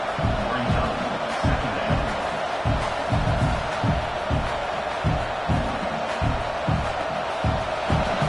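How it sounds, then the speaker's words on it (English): A dense, roaring stadium crowd fills the space continuously, with rhythmic low thumps like stomping or chanting pulsing steadily beneath the noise. "listen to this crowd noise. This stadium is vibrating."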